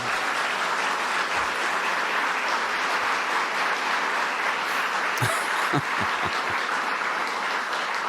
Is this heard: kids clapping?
yes